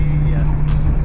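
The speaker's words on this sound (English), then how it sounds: "There goes the Corvette making up time." A C5 Corvette passes by on a road rally, its steady engine drone loud and close with a low hum for about a second, while a voice talks over it.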